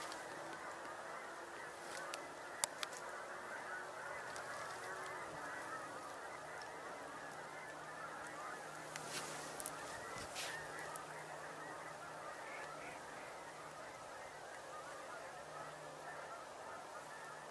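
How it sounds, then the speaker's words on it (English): Ducks and geese honk repeatedly at a moderate distance in the open, with a clustered burst of calls and flapping as they take off, then scattered honking continues over a quiet outdoor background. "ducks and geese took off."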